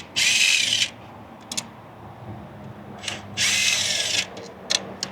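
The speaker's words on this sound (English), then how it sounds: "let's go ahead and get some of these bolts out of here and some of these water pipes" A power tool removes bolts and water pipes from a BMW V8 engine in a 5 Series during valley pan work. It whirs in two loud, close bursts, with shorter spins and quiet rattling in between.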